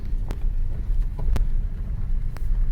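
A car drives through hunting grounds in Poland, its engine a low continuous rumble with wind buffeting, plus a few sharp knocks and rattles from the cabin.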